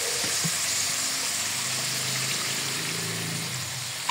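Soy sauce poured into pancit bihon and canton gisado in a hot pan produces a steady, close rushing hiss of liquid and sizzle that fades slightly toward the end.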